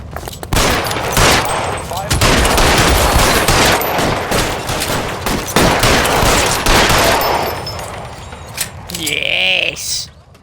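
Rapid gunfire in an L.A. Noire shootout pours out in dense, loud bursts for several seconds, with voices shouting over the shots before the firing tapers off.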